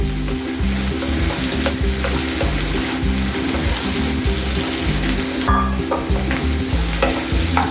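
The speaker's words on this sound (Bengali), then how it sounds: "পেঁয়াজটাকে একটু ভালোভাবে ভাজতে হবে, হোক ভাজা।" Chopped onions fry in a pan with a steady, close sizzle, stirred now and then with scraping utensil sounds, in a home kitchen with no one talking.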